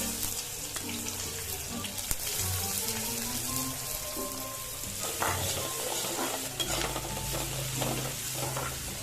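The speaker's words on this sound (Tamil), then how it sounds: "எண்ணெய் காஞ்சதும் நறுக்கி வச்சுருக்க வெங்காயத்தை போட்டு நல்லா வதக்கிக்கோங்க." Chopped onions sizzle in three tablespoons of hot oil in a pan for radish sambar, a steady close frying crackle with occasional stirring scrapes and clinks throughout.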